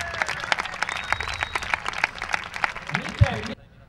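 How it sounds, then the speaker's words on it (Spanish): Audience applause for footballer David Villalba at the official squad presentation of CD Rota for the 2014/15 season, with a steady wash of clapping and sharp claps that runs about three and a half seconds, then a low thump and silence. "¡Un aplauso para David Villalba!"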